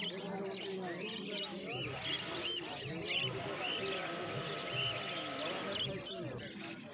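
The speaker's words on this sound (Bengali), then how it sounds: "এখানে প্রচুর বদ্রি পাখি রয়েছে, দেখতে পাচ্ছ বদ্রি পাখিগুলো" Many budgerigars chirp and twitter at once in a busy, continuous chorus at a pet bird market, with people talking nearby.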